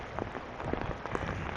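Rain comes down outdoors on a street in Regina while someone walks, a soft, steady hiss of drops with faint irregular patters, windy and fairly quiet, with no talking.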